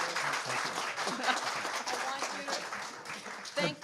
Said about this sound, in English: Can we have a round of applause for Eddie?